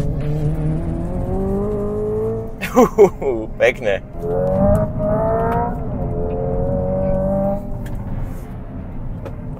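A Hyundai IONIQ 5 N accelerates hard out of a corner with N-Grin Boost engaged, its synthetic engine note climbing in steady harmonic sweeps under someone talking in the cabin.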